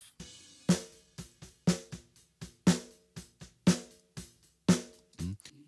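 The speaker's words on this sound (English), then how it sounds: "Snare drum sounds like this by itself." A soloed snare drum from a mix cracks out sharp hits in a steady groove, with quieter ghost strokes and faint kit bleed between them, ending in a short quick roll.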